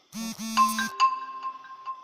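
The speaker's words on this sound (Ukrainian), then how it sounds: "От зараз хтось мусить зразу смс якусь слати, іменно коли знімає відео." A phone's text-message notification tone plays during a home PC repair session, a short two-part electronic chirp followed by a bright ringing tone that rings out and decays, fairly close and clear with no talking.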